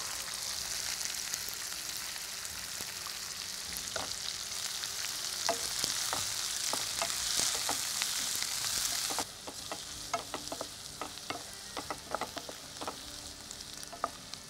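Onions frying with urad dal in a pan, a strong continuous sizzle with stirring scrapes and taps; the hiss drops sharply partway through, leaving quieter frying with distinct spoon clicks, close and alone.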